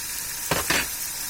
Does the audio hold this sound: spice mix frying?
yes